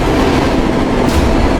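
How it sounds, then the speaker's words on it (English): A train emerges from the massive concrete entrance of an undersea tunnel in Japan, a loud, dense rumble of wheels and cars rolling steadily past with a brief hiss near the end. "At sunset, trains emerge from the tunnel's massive concrete entrance."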